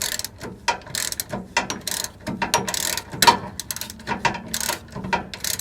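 A ratchet tightens a bolt on a GM OBS truck's rear Bilstein shock absorber, giving loud close bursts of rapid clicking in uneven strokes with short pauses between them.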